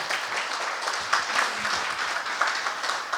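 Audience applause at a Korean Buddhist history lecture orientation, a brief steady wash of clapping from a seated crowd at moderate distance.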